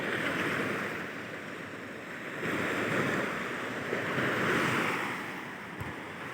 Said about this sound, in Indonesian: Saat ini ombaknya agak kenceng